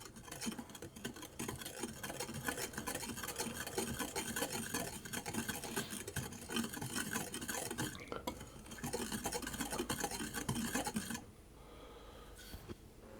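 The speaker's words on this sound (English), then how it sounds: "I'm going to give that a mix around just to get those" Flour and baking powder being mixed in a bowl for a plum crumble cake: rapid, close scraping and tapping of a utensil against the bowl for about eleven seconds, then fading to quiet before a final knock.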